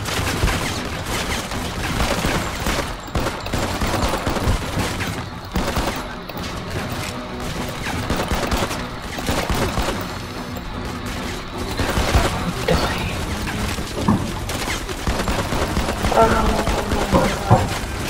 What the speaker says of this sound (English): Wait, he has a machine gun.